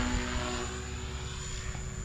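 Blade 300X RC helicopter flying at 70% throttle in stunt mode, a steady, loud, close buzzing whine with a sustained high tone, unbroken throughout.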